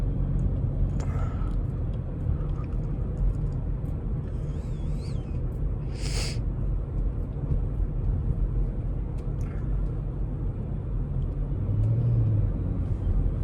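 Steady in-cabin road rumble from a Chrysler 300 crawling through rush hour traffic, continuous low engine and tyre drone throughout with faint brief noises over it.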